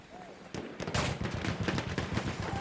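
Rapid gunfire rattles through a competitive platoon championship match in a video game, with dense bursts of shots running almost continuously at moderate loudness.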